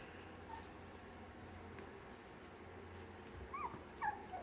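Week-old tri-colored puppies whimper and yip softly, several thin high whines rising near the end over a quiet room hum.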